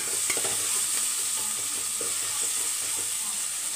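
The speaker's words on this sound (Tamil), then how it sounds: "வெங்காயம் வதங்கட்டும். இப்போ தக்காளி சேர்த்துக்கலாம்." Onions and tomatoes fry in a pan for a brinjal curry, giving a steady close sizzle with repeated scraping stirs throughout and no voices.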